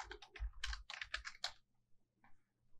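A burst of quick close keystrokes on a computer keyboard as a command is typed, a rapid clattering run followed by a pause and a couple of faint final taps, quiet overall.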